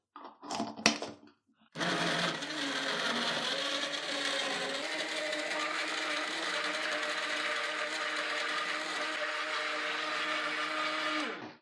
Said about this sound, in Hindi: अब दोबारा हम ग्राइंड करेंगे।